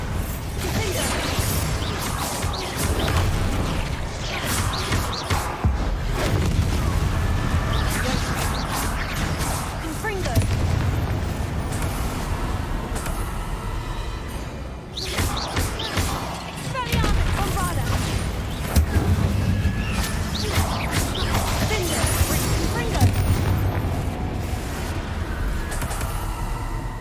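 Repeated Confringo fire-spell blasts in the video game Hogwarts Legacy, dense booms and whooshes layered over steady game music and effects throughout, with a voice calling out spell names.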